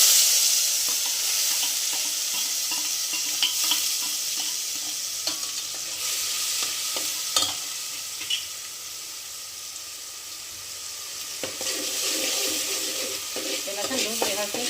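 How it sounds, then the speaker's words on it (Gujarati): Onion gravy sautéing in hot oil with a steady, close hiss and sizzle that holds for the whole stretch, with occasional light stirring clicks and scrapes. "સાતળવા દેવાની"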